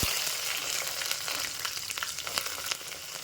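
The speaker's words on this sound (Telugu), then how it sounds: "ఇప్పుడు ఆవాలు జీలకర్ర చిట్పట్లాడిన తర్వాత ఈ వెజిటేబుల్స్ మొత్తం వేసుకోవాలి" Mixed vegetables frying in hot oil with popped mustard seeds and cumin, a close steady sizzle with scattered crackles and spits, fairly soft and alone.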